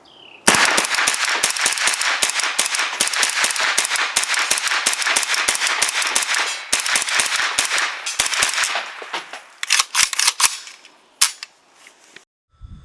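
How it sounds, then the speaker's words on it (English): A Kalashnikov USA KR-9 fires SIG 124-grain rounds in a long string of sharp, loud shots, rapid and fairly steady at first, then thinning into scattered final cracks. "First shots out of the KR-9. This is SIG 124 grain."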